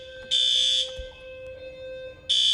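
A fire alarm blares in two loud, steady bursts, one near the start and another at the end, separated by a stretch of quieter background hum.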